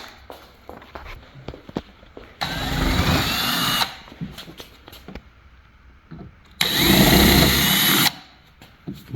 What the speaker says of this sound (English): simply drill the paint out of the hole and not actually enlarge the hole